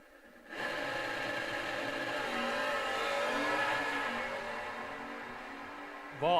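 An E-Stock Camaro and an F-Stock automatic Cuda drag racing at the strip, engines roaring in from a sudden launch and sweeping in pitch as they accelerate away, fairly distant, then a fresh burst of revving at the end.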